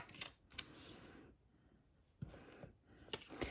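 Scissors snip through paper in a few quiet, brief cuts separated by pauses, close by and soft.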